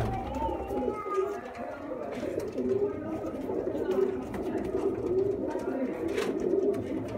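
Sialkoti pigeons kept for sale coo nearby in soft, repeated throaty calls, with people talking over them throughout.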